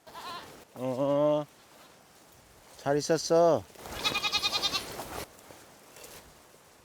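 Pastured goats bleating on Uido, a windy island off Mokpo, several loud wavering bleats close by, interleaved with a voice speaking to them.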